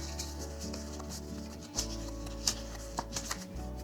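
A deck of cards is shuffled by hand indoors: a few quick papery riffles and flicks over a low steady hum, close and fairly quiet.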